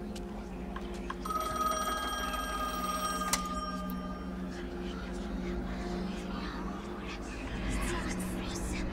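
A payphone rings inside the video game The Medium, a repeated electronic bell tone lasting a couple of seconds over a steady low ambient hum, with no talk during the ring.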